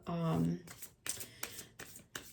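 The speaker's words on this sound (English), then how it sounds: "I'm going to get to the cards in just 1 second. I'm going to shuffle." Tarot cards are shuffled in quick riffling bursts, four or five close, crisp swishes following a short spoken word.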